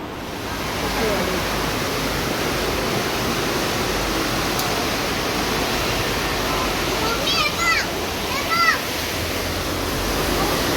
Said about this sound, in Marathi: हे जे पाणी येतं ना एवढं हे पाणी आता कंटिन्यू असणार